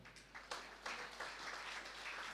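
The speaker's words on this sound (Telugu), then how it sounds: "కానీ గట్టిగా చప్పట్లు కొడదాం" A crowd claps together, the applause swelling in bursts and then holding steady at a moderate, fairly close level.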